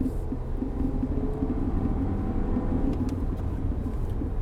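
Audi A5 2.0 liter turbo quattro accelerating, a low steady engine rumble heard from inside the car, moderately loud and even with no talking.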